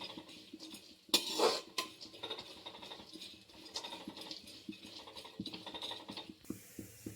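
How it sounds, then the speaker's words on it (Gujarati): Mango seed mukhwas ingredient roasting in a tava, with busy metallic scraping and clinking from stirring against the pan, one louder clatter early on, then steady close-up rattling with no voices. "આપણે એને તવીમાં શેકીએ છીએ"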